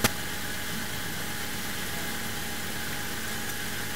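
A Jeep 4.0L engine idles steadily up close, a constant broadband rumble and hiss with a faint click at the start and no talking.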